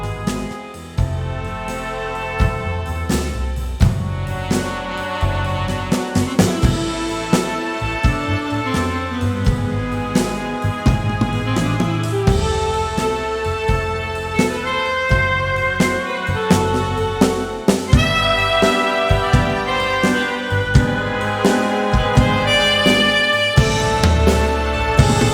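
Full rock drum kit from the MAD RockScore sample library, with dense kick, snare, toms and cymbal hits in a steady driving groove, loud and continuous without any speech.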